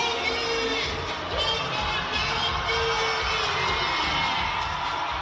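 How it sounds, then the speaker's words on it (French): A dense crowd in green and gold welcomes the Springboks rugby world champions at Johannesburg airport, a steady wash of cheering, shouting and whooping voices that stays loud and continuous throughout. "Ils ont été accueillis par une foule aux couleurs de l'équipe vert et or à l'aéroport de Johannesburg aujourd'hui."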